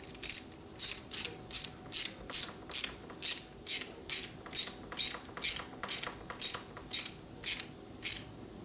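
A ratchet wrench loosens screws on a 1972 1000cc Harley-Davidson Ironhead Sportster engine during a rebuild. It gives a steady, evenly spaced series of about sixteen sharp metallic clicking strokes, close and loud, with no talking.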